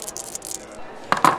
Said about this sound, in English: You can hear dice rattling